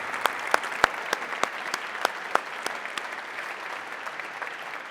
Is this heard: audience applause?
yes